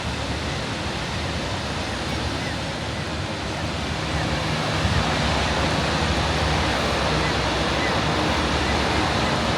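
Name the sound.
waterfall at a Norwegian fjord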